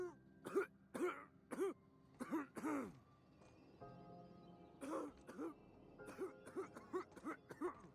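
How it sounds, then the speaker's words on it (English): A sick woman character in the video game The Outer Worlds gives a series of short throat-clearing coughs, repeated in clusters, quiet and close with a low hum behind them. "Don't cough on me."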